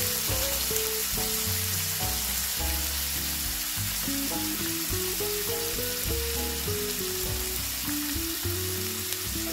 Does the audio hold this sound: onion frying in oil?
yes